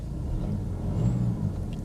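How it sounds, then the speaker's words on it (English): A Mercedes E-Class engine idles with a steady low rumble, even and unbroken, heard close with no talk. "Well, it's idling okay."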